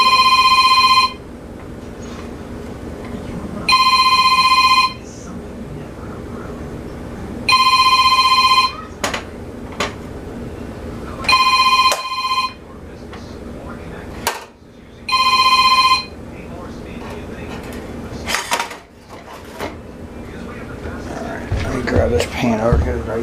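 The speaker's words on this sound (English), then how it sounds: "Oh, that's my phone." Mobile phone ringtone repeating in regular bursts about every four seconds, six rings in all, with background sounds and clatter between them, then handling noise at the end.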